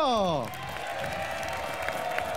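Applause fills the room after a descending sung or musical phrase fades, steady clapping continuing throughout at moderate volume.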